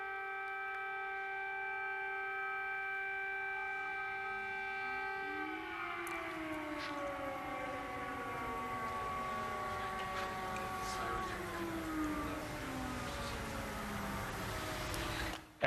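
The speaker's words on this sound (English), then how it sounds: "There's the sirens again." Civil defense sirens wail in long sustained tones, their pitch sliding and overlapping as several sound at once, steady and fairly distant.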